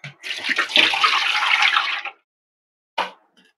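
Tap water gushes loudly over raw green mangoes being washed in a kitchen sink, a close two-second splash that stops abruptly, followed by a brief second splash after a pause.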